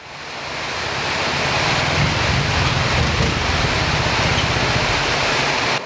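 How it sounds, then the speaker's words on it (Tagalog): Heavy rain in La Trinidad, Benguet roars in a dense, steady hiss that builds over the first second and holds constant, with no voices. "Lakas ng ulan."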